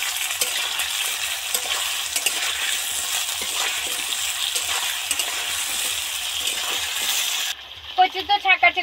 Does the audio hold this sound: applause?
no